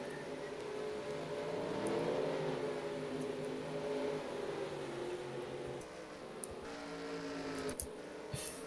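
Race cars in the NASCAR Racing 2003 video game drone past in a pack, a steady whining engine chorus with shifting pitch and faint clicks, moderately distant and without talk.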